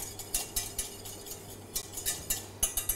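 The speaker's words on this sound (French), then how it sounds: "Tu mélanges." A utensil stirs a cornstarch-thickened sauce in a pot, its metal scraping and clinking against the sides in a quick, uneven rhythm of sharp ticks, close and clear, with no talk.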